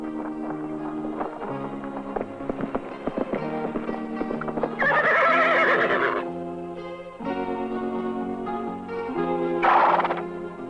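A roughly 1,000-pound horse whinnies loudly in two long bursts, with steady hoof clip-clops sounding close by between and under the neighs.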